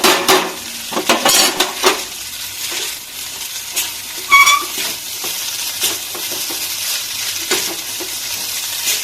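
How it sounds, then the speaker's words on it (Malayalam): A fork stirs and mixes in a bowl while preparing egg noodles, with steady close scraping and clinking, a few louder metallic taps among the rhythmic whisking. "ഫോർക്ക് ഉപയോഗിച്ച് മിക്സ് ചെയ്യാം."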